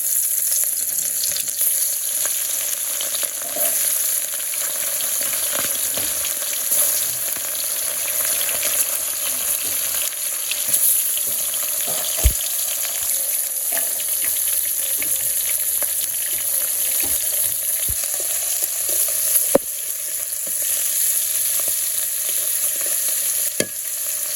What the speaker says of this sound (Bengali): আমার তেল গরম হয়ে গেছে মাছগুলো দিয়ে দিই